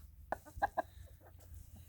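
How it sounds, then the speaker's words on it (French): Hens in a farmyard give a few short, soft clucks in a quick cluster, faint and fairly close, over a low background murmur. "je me retrouve dans la basse-cour avec les poules."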